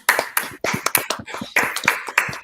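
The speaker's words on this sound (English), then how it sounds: "let's give ourselves a round of applause" Sharp hand claps in a quick, uneven burst, close and fairly loud, like a small group clapping briefly at an online summit.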